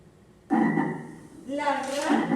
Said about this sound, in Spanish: La rana, ¿cómo hace la rana?